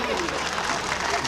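Dense, continuous clapping from the audience at an all-India mushaira poetry gathering in Pachpedwa, Balrampur, close and loud, with a murmur of voices blended into the applause.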